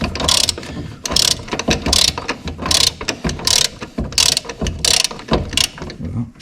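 Ratchet wrench unscrewing a fastener on the steering rack of a BMW X3 F25 during a repair, with a steady run of rapid clicking bursts repeating close up for the whole stretch.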